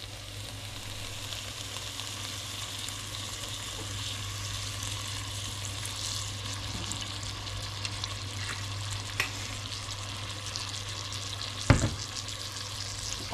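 Mackerel and pork sizzle steadily in olive oil in a pan, a soft continuous frying hiss with a brief sharp clatter near the end.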